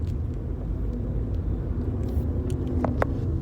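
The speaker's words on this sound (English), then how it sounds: "hello, car in front of me" A car travels on the road ahead among cyclists, heard as a steady low rumble of road and engine noise from inside a moving vehicle, with a couple of brief sharper clicks near the end.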